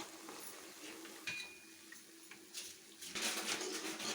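Punugulu, rice batter fritters, fry in oil with a faint, steady sizzle, broken by occasional light clinks of a utensil and a brief louder burst of crackling toward the end, with no voices.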